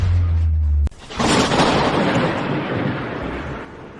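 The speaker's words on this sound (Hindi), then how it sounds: "अचानक बादल कैसे गरजने लगे?" Thunder in a clear sky: a sharp crack breaks off a low hum, then a broad, loud rolling rumble that slowly fades, with no voices.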